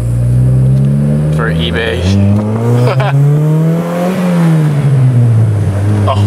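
A Honda car is driven out of a rough driveway over a bump, its engine droning loudly nearby and rising and falling in pitch, with people talking over it.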